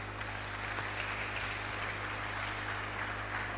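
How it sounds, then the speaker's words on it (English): Audience at a university engineering conference applauds itself, steady moderate clapping throughout over a low room hum. "can you applaud yourself?"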